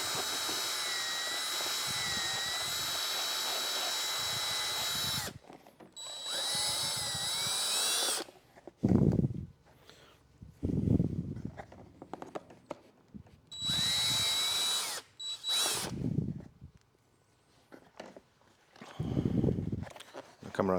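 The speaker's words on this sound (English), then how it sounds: "we're going to drill this hole out to 5/8. I like to use these step drills" A step drill bores a hole out to 5/8 inch for a Honda Gold Wing saddlebag light, two long close whining runs and a shorter later burst, separated by bits of handling noise and brief stretches of talk.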